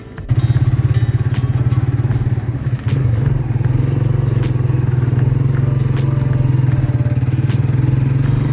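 A motorized tricycle ride to the port in Caticlan, with a steady loud engine drone and rattling chassis. A brief dip comes near three seconds, then the drone runs on unbroken.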